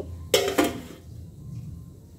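A metal lid is set onto a pot of rice, making two quick, close clanks a moment apart, followed by faint kitchen quiet.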